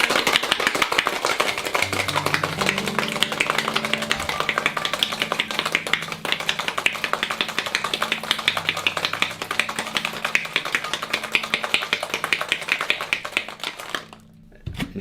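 A cocktail shaker full of ice is shaken hard and fast for a long stretch, giving a dense rapid rattling of ice that stops abruptly near the end, loud and close.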